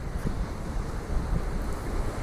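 Sea waves and gusting wind at St Govan's Chapel on a rocky coast, a continuous broadband wash of surf and wind buffeting the microphone, fairly loud and steady throughout with no talking.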